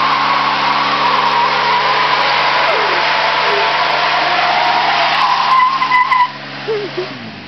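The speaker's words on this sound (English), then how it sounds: "Let's see a burnout." Ford Ranger doing a burnout, tires skidding and squealing loudly and continuously for about six seconds over a revving engine, then easing off.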